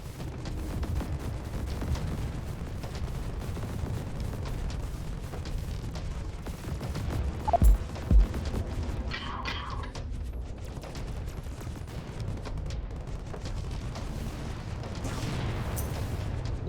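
Auto turrets fire in the twin-stick space shooter Star Vortex, a dense continuous barrage of rapid gunfire and explosions rumbling throughout, with a brief sharper burst midway.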